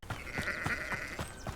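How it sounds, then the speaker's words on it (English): A sheep in the Hogwarts Legacy video game bleats once, a brief wavering nasal cry that is close and clear, with no talking over it. "It's just a normal sheep."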